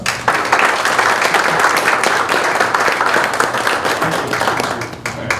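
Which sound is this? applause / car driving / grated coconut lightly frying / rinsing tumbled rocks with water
applause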